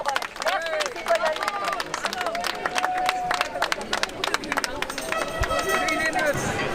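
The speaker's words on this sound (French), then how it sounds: "on applaudit Citoyen Libre" At an anti health pass street protest in Limoges in September 2021, a crowd breaks into scattered, lively clapping amid a murmuring hubbub, with people talking close by over the applause.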